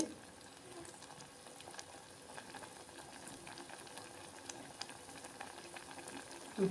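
Taro root boils in a pot of water, giving a steady, soft bubbling hiss that carries on evenly throughout, with no voice over it.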